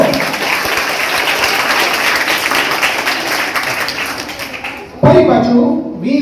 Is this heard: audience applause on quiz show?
yes